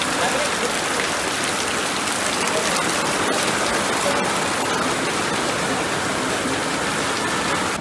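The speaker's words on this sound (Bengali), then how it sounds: "বৃষ্টি থামবে না, মাছটা নিয়ে বেরোই।" Heavy rain pours steadily at a Bengali fish market, a dense, continuous hiss close by with no break throughout, and faint voices may sit underneath.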